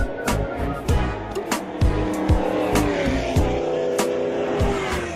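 Ford Mustang Challenge race cars roar past on a track one after another, loud engine bursts with rising and falling pitch and occasional tire squeal, each pass quickly fading.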